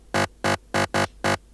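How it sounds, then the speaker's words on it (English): An aggressive layered synth plays five short, evenly spaced stabs, each a loud, dense, buzzy burst with abrupt starts and stops and near silence between them. "Nice aggressive synth, but you cannot really tell the layers apart."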